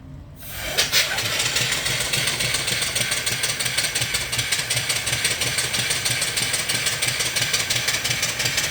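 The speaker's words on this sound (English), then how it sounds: "I'll turn on the steam. I'm just running it off of one of my boilers." A small live steam engine run off a boiler chuffs steadily after a brief quiet start, its rapid even beat running continuously and fairly loud, with a faint hiss throughout.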